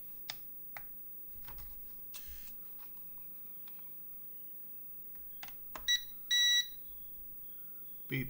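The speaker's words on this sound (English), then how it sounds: "Beep beep from the controller." Short electronic beeps from a Dazlen 1080P mini drone's controller powering up, two bright tonal bursts near the end following scattered clicks and light handling noise in a quiet room.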